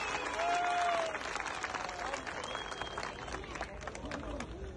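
Crowd applause at a CHP political rally in Kemer, Antalya, a dense sustained clapping with cheering voices and a brief whistle-like tone, loud and steady throughout.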